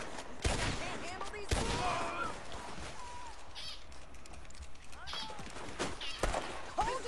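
Gunfire in a shootout among rocks, heard as several sharp, loud shots spaced irregularly over steady outdoor background noise.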